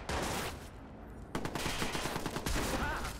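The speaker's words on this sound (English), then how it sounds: "all this gunfire that they're shooting at me at the moment really is inconsequential" Enemy gunfire in the Watch Dogs video game comes as a dense, loud fusillade of rapid automatic shots and overlapping bursts. It runs almost continuously, with a brief lull before the firing picks up again.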